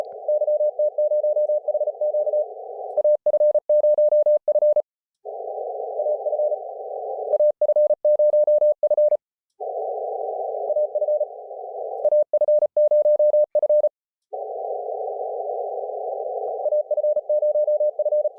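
Fast Morse code CW tones come in over a ham radio during an HF contest. A steady single-pitch beep keys rapidly in clustered bursts, with brief gaps between runs and a light hiss of background noise.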